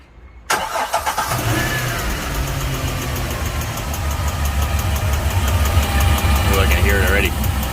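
A 408 engine cranking and catching, then idling roughly with a steady rapid ticking from an internal fault, close and loud, with people talking over it.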